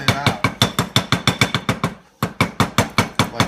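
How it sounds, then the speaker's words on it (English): A hammer taps steadily on material to loosen it, about sixteen sharp close strikes in quick rhythm with a brief pause midway, loud and alone. "where I tap away, like so, and kind of loosen it"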